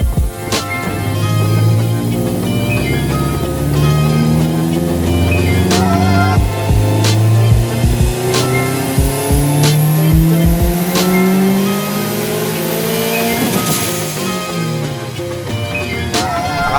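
Subaru STI tuned to about 400 wheel horsepower running on 95 octane on a Dynojet dyno, the engine repeatedly revving and climbing through gears with rising pitch sweeps, loud and close, with sharp pops between pulls.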